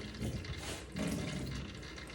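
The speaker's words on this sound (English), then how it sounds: "Now what I'm going to do is I'm going to take my water. I'm just going to drizzle it around the tank." Water is drizzled around inside a snake's tank, giving a steady splashing, trickling wash that runs for a couple of seconds with a brief pause, faint and alone.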